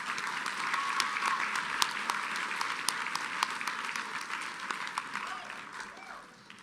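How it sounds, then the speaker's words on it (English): A graduation audience applauds faculty in a school gathering hall, a steady wash of clapping from many hands that holds for several seconds before slowly thinning out. "Let's give them all a huge round of applause."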